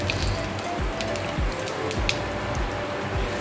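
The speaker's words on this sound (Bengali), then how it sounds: "জিরেটা ফোড়ন দিলাম" Cumin seeds hit hot oil as a tempering for a Bengali katla fish and potato curry, giving a steady hissing sizzle with soft crackling pops that runs close and unbroken, with no talking over it.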